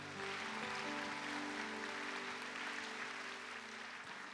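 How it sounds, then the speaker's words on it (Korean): A church congregation claps to encourage a couple standing during a Korean worship service, a full sustained round of applause with steady sustained tones, likely organ or keyboard, running underneath throughout. "이 커플이 하나님과 동행하는 아름다운 가정 이루시라고 우리 박수로 격려할까요?"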